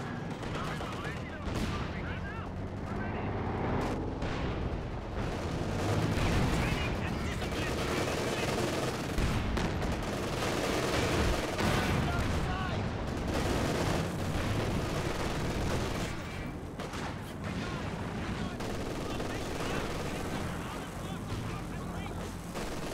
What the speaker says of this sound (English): Oh, Katyusha barrage into the base.